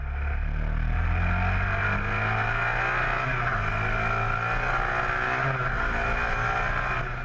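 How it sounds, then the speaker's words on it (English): Demonstration racing motorcycles, including a Matchless G50, roaring past at the Adelaide Motorsport Festival, a loud, sustained engine drone with shifting pitch that holds steady throughout without a clear fade. "It's time for the demonstration bikes."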